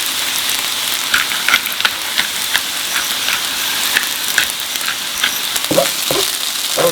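Ramen fried rice fries in a hot pan with salt and pepper, a dense close sizzle with crackling pops and a few scraping stirs near the end, no talking.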